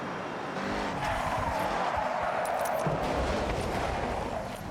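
A Toyota GR GT on drift tires slides in the Forza Horizon 6 racing game, producing a steady engine roar mixed with continuous tire squeal and skidding.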